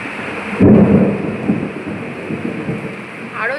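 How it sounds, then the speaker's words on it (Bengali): A loud roll of thunder breaks out during heavy monsoon rain in North 24 Parganas, then rumbles away under a constant rush of rainfall. The thunder is close and strong, with no talking. "দেখো মেঘ ডাকবে।"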